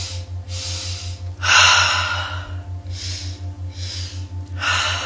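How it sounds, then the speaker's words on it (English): Slow, deep breaths are drawn in and pushed out during a guided body-movement session. Long airy inhales and exhales alternate, close to the mic, over a faint steady hum, with no talking. "Keeping that breathing going."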